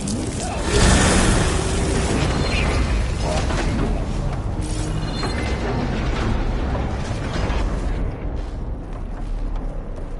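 Incendiary blast in Horizon Forbidden West, a loud booming burst up front followed by a dense, crackling roar of flame and debris that stays heavy for several seconds before easing slightly at the end, with faint game voices underneath.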